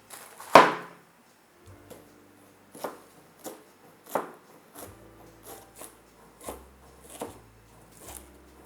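A knife chops cabbage for lo mein on a cutting board, one sharp hard cut followed by a series of softer, evenly spaced crunchy slices, close and alone.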